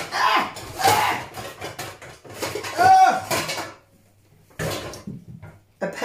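Metal cookware clatters and knocks as a large frying pan is pulled out in a home kitchen during a cooking Q&A, several sharp clanks and scrapes in bursts with short quiet gaps.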